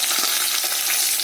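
Pumpkin pieces fry steadily in hot oil in a pan, a continuous close bright sizzle that stays even and loud throughout, with no voices.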